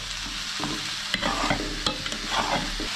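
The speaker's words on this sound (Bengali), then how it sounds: "খিচুড়িটা নেড়ে দিই একবার।" A spoon stirs khichuri in a cooking pot over steady frying sizzle, with a few sharper scrapes and knocks against the pot walls, close and moderately loud, with no talking.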